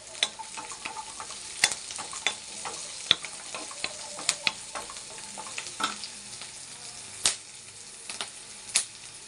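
Chopped ginger and spices frying lightly in a pan for a brinjal gojju, with a steady gentle sizzle under sharp, irregular scraping and tapping as a spoon stirs, close and clear, no speech.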